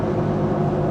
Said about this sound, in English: Little bit of wind noise. I can hear it. You hear the shh.